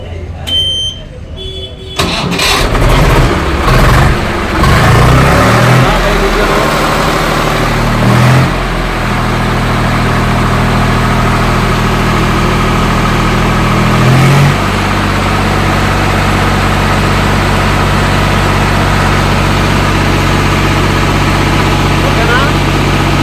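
A tractor with a black-smoke fault and poor pickup is started and settles into a steady, loud diesel idle that runs throughout, with a sharp high-pitched tone at the start and occasional voices.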